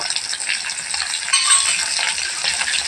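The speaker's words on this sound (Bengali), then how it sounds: "একেবারে মাছটিকে ভালোভাবে নেড়ে চেড়ে লাল লাল করে ভেজে নেবো।" Shrimp fry in hot mustard oil while being stirred in the pan, giving a steady close sizzle with faint scraping and rattling throughout, no voices.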